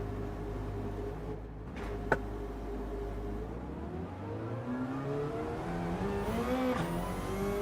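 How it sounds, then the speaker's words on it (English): Porsche race cars roar past in a Gran Turismo race at Suzuka, engines droning steadily and rising in pitch as they accelerate, a continuous mid-loud whir with no talk over it. "All these Porsches are just pushing their way through."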